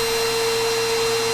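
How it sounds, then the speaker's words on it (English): A vacuum cleaner left running near a desk microphone gives a loud, steady broadband roar with a constant tonal whine, unbroken for the whole stretch and with no voices. "Leaving the vacuum on."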